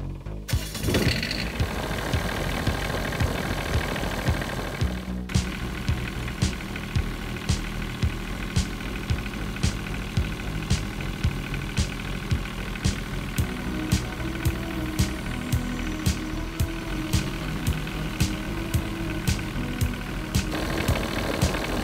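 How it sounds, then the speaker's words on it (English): An Onan RV generator runs under load during maintenance, a steady loud engine drone with regular rhythmic ticks throughout, after a brief rough start in the opening seconds. "So now we need to put the generator under load and run it for a while and blow all the soot out."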